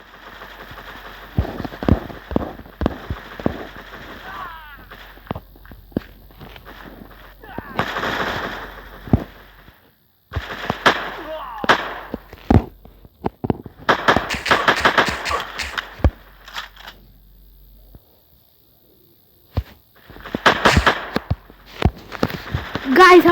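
Sharp gunshots ring out in an online shooting game, firing in scattered single shots and short bursts with gaps between, close and loud, with brief game sounds between volleys.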